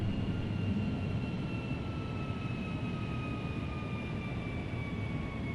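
Boeing 757 jet engines in Flight Simulator X during climb-out from Cedar Rapids, Iowa, a steady loud broadband roar with sustained whining tones that drift slowly downward, heard alone without talk.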